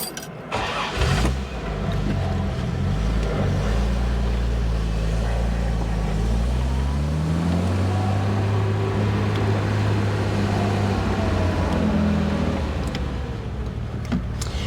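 A classic car's engine cranks and fires, then settles into a loud, steady idle before revving and pulling away, its note rising and falling through the gears as it drives off close by.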